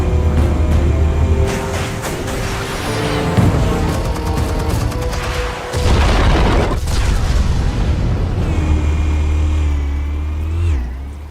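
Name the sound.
explosives detonating in Batman Telltale video game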